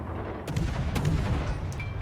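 Warship guns open fire in World of Warships, heard as a few sharp cannon blasts over a constant low rumble of battle noise, moderately loud, with no voices.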